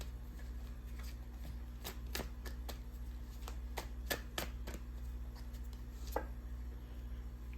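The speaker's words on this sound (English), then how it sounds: "Let's just draw another card on that." Tarot cards being shuffled and drawn, a few soft, close riffles and flicks over a low steady room hum, quiet and without talk.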